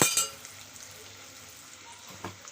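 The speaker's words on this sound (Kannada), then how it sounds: "ಪನ್ನೀರನ್ನು ಫ್ರೈ ಮಾಡ್ತಾ ಇದ್ದೀನಿ." Cubed paneer frying in a pan with turmeric powder, a faint, steady sizzle with a couple of light metallic clinks from a utensil near the start and near the end.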